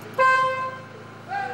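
A driving-school car's horn sounds close and loud in two bursts, a sustained toot followed by a shorter second blast after a pause.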